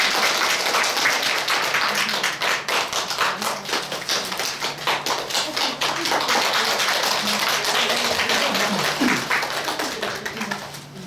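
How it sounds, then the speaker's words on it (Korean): An audience at a fan meeting for a paper-art artist in Jecheon applauds warmly as a bouquet is presented, dense steady clapping filling the room for several seconds with some voices mixed in. "따뜻한 박수로 부탁드립니다"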